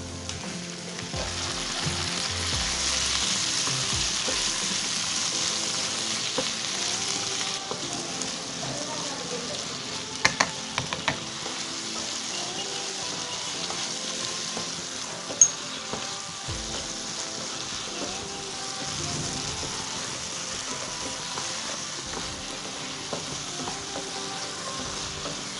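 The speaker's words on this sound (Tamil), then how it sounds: "நல்லா வதங்கிடுச்சு வெங்காயம் தக்காளி" Onion and tomato sauté steadily in a hot pan while cooking a matar paneer kurma with cashews, giving a continuous close, even sizzle with a few faint clicks of utensil taps along the way.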